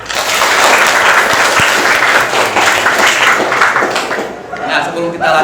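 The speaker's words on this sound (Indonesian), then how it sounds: "Tepuk tangan." Students in a classroom applaud together, a dense sustained burst of clapping lasting several seconds, with some chatter and voices mixed in before it thins out at the end.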